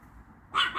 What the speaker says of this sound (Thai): หมาตัวน้อยเห่าจ้ะ